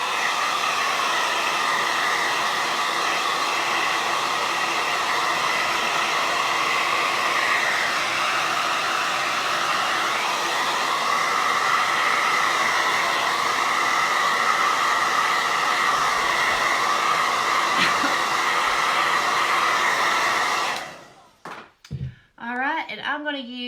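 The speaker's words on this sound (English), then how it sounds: "I'm going to give this black a quick little dry." A hair dryer blows steadily for about twenty seconds, drying black acrylic paint on a wooden tree farm sign. Its loud continuous whoosh then cuts off, and a voice speaks.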